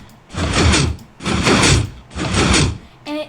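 Minecraft piston door in version 1.6.4 cycling through three loud mechanical bursts of sliding, clunking piston movement, each about half a second long, followed by a short tonal blip at the end.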